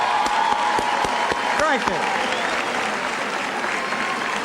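Loud crowd applause and cheering for a governor on the 1992 election night, dense and continuous, with a brief spoken thanks and some shouts over it.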